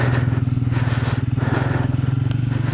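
A motorcycle engine thrums steadily on a Leh-Ladakh road trip toward Manali, a loud, close, low pulsing drone with wind noise throughout.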